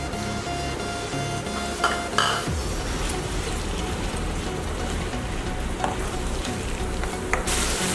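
Onion and green chillies fry in melted desi ghee in a kadhai, a steady close sizzle with occasional stirring scrapes and clinks throughout, no voices.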